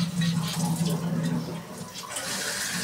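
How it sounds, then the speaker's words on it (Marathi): Running tap water at a sink while dishes are washed by hand, a steady rushing flow with a hum underneath, close and continuous, easing slightly midway. "माझी दीदी भांडी घासते आज."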